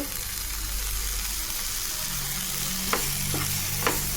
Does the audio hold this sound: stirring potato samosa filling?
yes